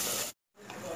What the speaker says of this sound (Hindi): मसाला हमारा भुन रहा है